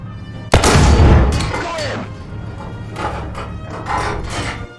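A tank cannon in War Thunder fires once at an enemy tank's rear engine, a single loud close boom with a rolling decay and faint mechanical clatter, followed by quieter rumbling and distant impacts.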